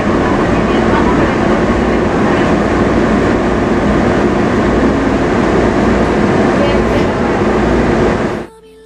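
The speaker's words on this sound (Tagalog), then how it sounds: "Papasakay si Kuya ng tren" A San Francisco Muni train rumbles along the rails with a loud, steady roar and faint rhythmic clatter, continuing until the sound cuts off abruptly at the end.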